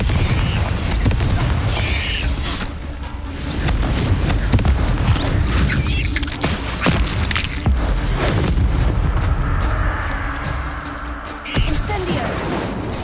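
Confringo blasting spell explosions in the wizarding game Hogwarts Legacy, repeated loud booming detonations and crashes in steady combat, with faint voices mixed in.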